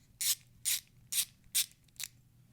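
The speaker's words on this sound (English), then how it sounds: "So I'm going to pull that screw off. And then we need the T10." A T10 driver turns out a screw on a knife scale, making five evenly spaced, close, crisp ratcheting clicks against a quiet background.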